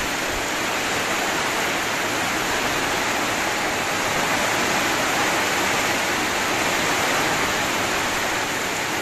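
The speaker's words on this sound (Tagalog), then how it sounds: "Ulan lang." Steady, dense rain pours during a typhoon in a rural province, a continuous broadband wash with no pauses and no talk.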